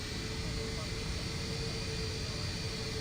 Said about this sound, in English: Just waiting for the APU to come online, which we can see it's slowly starting up now.